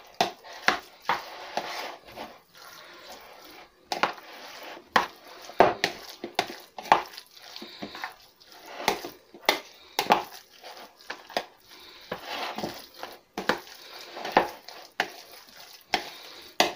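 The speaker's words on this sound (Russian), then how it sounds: "Майонез. И все хорошо перемешиваем." A mushroom salad is mixed with mayonnaise in a bowl, giving irregular wet squelches and spoon scrapes and clinks in bursts throughout, close and fairly loud with no talk.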